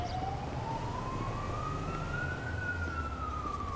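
An ambulance siren wails in the GTA 5 video game while responding code 3, one long rising tone sweeping up over a low engine rumble, moderately distant and steady throughout.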